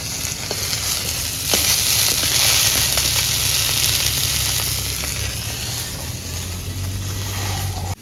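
Pieces of fresh river boal fish frying in a pan give a continuous, fairly loud hiss and sizzle, with a few faint knocks and no voices.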